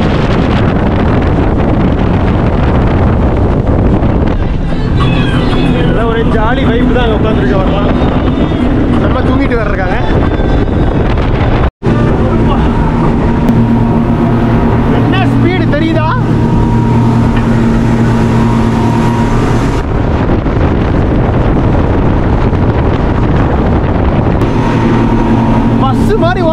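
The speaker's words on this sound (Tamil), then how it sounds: "ரெண்டு ஹோண்டா இன்ஜின், செம்ம இன்ஜின் இருக்கு, பட்டையை கிளப்புது." A motorboat's twin Honda outboard engines drone steadily and loudly throughout, with wind buffeting the microphone and a voice talking over the noise.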